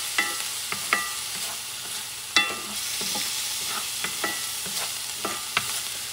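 Minced garlic sizzling in a hot pan while being stirred, a steady hiss of frying broken by scattered scraping taps of the utensil, close and fairly loud with no voices.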